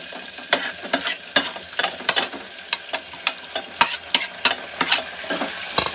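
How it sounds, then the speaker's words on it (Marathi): Onions fry in a tempered pan with chilies, a steady sizzle punctuated by repeated sharp scrapes and knocks of a spoon stirring them, close and fairly loud with no speech. "कांद्याला थोडासा ब्राऊन होऊ देऊ आपण"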